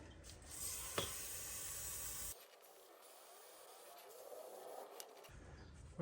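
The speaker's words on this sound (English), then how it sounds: "Give that a spray down with some brake cleaner." A steady, hissing burst of aerosol brake cleaner sprayed on a Seat Arona brake disc lasts a couple of seconds, then tapers into a quieter hiss with faint clicks.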